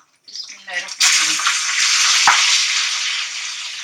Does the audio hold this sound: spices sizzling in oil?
yes